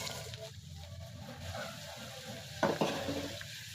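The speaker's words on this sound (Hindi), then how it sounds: "यहाँ पे ऑयल गर्म हो रहा है, इसमें हम अपनी प्याज डाल देंगे" Onions frying in hot oil in a pan for an egg masala curry, a steady close sizzle with a brief burst of stirring clatter partway through.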